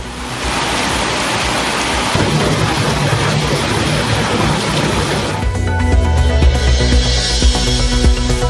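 Heavy rain pours down steadily in a dense, loud hiss, with a deeper rumbling wash joining in partway through.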